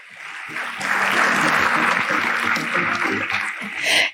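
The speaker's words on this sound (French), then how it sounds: "merci de les applaudir." Audience applause at a national girls' education day ceremony, a sustained dense round of clapping that swells, holds steady for several seconds and surges again at the end, with faint voices underneath.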